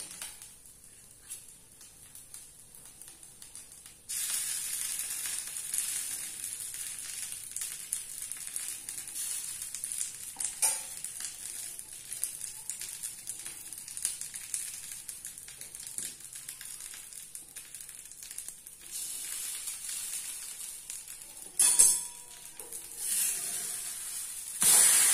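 A butter dosa sizzles on a hot griddle, a steady, faint crackling hiss that grows louder after a few seconds and continues with small pops and a couple of sharper clinks.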